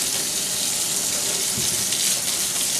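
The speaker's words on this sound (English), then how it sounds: "we're letting the water get on the brushes on an angle so that the water does not get into the part where all the hairs are stored" Tap water runs steadily over makeup brushes held at an angle in a sink, a continuous close hiss and splash with no voices.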